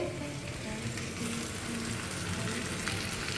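Leaves and greens are stir-fried in a pan, a constant close crackling sizzle with a low underlying rumble, steady and uninterrupted by voices.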